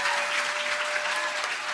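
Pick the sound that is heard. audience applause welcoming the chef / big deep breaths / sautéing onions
audience applause welcoming the chef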